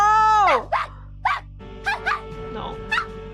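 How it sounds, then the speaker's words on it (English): A dog gives a series of short barks and yelps in a show episode, mixed with a drawn-out whine and background sounds, fairly loud and close. "Just that bark is killing me on the inside."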